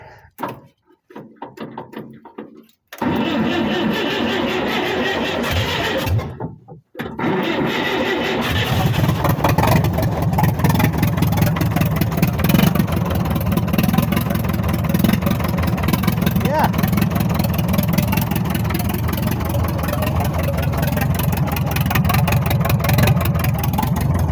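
A small engine with no muffler cranks and catches, then runs loud and raw, its unmuffled exhaust rattling steadily close by after a brief start attempt.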